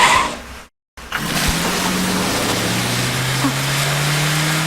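A car pulls away during a movie action chase, its engine note rising steadily and loud for several seconds after a brief dropout, with no talk over it.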